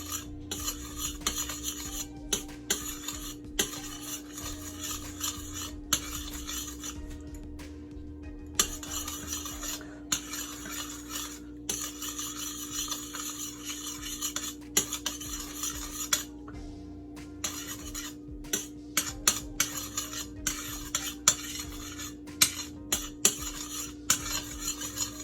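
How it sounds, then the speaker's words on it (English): Pork stew being stirred in a pot until browned, Jamaican style, with steady scraping and clinking of a utensil against the pot close up, plus a constant low hum underneath and no talking. "we're just going to continue stirring this until it gets to the color"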